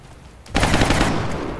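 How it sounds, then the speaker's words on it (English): Gunfire in the XCOM Long War video game breaks out as a sudden loud, sustained burst of rapid shots after a quiet start, with no talk. "Nice shot, Bill."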